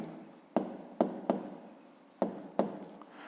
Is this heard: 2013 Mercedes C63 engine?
no